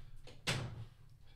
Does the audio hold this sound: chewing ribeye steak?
no